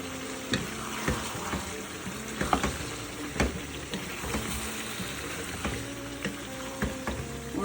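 Tomatoes frying in a pan for a simple chicken curry, a steady close sizzle with scattered pops and the occasional clink of stirring, running without any talk.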